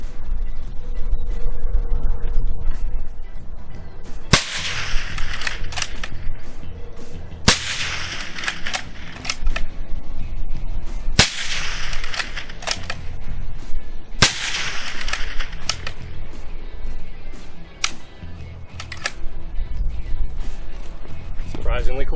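A .30 caliber rifle fired through a Nitro 30 suppressor gives several sharp, cracking reports spaced a few seconds apart, each with a brief tail, loud and close, while someone talks between the shots.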